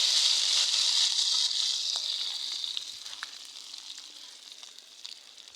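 Chicken khichuri with dried chilies sizzles hiss-loud on a rooftop clay stove as it is stirred, the frying crackle strong at first and slowly fading. Scattered clicks and scrapes from the stirring come through, and no one speaks.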